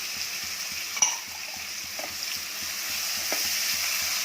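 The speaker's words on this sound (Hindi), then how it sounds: "आप इसे ब्राउन भी कर सकते हैं प्याज, और साथ में ही हरी मिर्च भी डाल देंगे," Onions and green chillies fry in a pan with a steady close sizzle, while a spoon stirs and scrapes against the pan in a regular rhythm and no one speaks.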